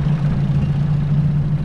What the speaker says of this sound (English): This is a 24-to-1 mixed motor.